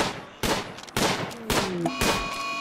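Gunfire in Rimworld, several loud shots spaced roughly half a second apart, each a sharp crack with a short tail, joined near the end by ringing tonal game sounds.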